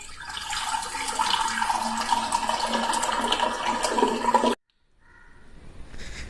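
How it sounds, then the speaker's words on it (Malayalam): Boiled and cooled water pours steadily into a bottle for about four and a half seconds, a continuous close splashing gurgle that stops abruptly, followed by faint trickles and drips. "തിളപ്പിച്ചാറിയ വെള്ളം നമുക്ക് ഇത് കുപ്പിയിലേക്ക് ഒഴിക്കാം."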